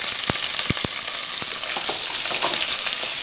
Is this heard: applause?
no